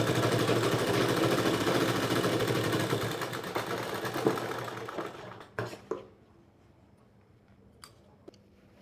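A sewing machine stitches an apron with a steady close hum for about five seconds, then stops, leaving a few small clicks and handling knocks in near quiet.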